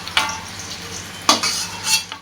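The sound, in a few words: fried potato and paneer being lifted out of pan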